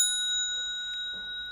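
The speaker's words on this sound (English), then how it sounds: "Bell sound" A temple bell rings at the opening of a Buddhist lecture. Its clear, pure tone hangs and slowly fades, alone in a quiet hall.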